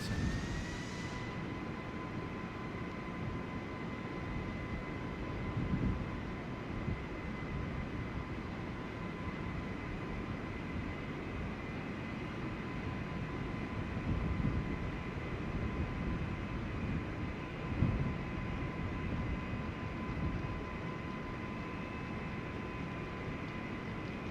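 Engines of an Air Canada Airbus A320neo hold at 30% throttle, producing a steady, even roar with a sustained whine running unbroken throughout.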